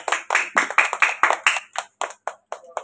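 A group of students claps hands in a classroom for a teachers day celebration, about a dozen sharp bursts in a quick steady rhythm that thin out and slow toward the end, fairly close and with no talking.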